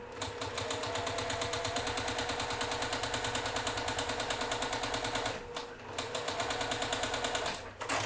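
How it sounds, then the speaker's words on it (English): A sewing machine pieces a quilt block with a quarter-inch seam, running in a fast, steady mechanical chatter, close and even, with a brief pause near the end before stitching resumes. "you're just going to normally stitch this block together with a 1/4 inch seam"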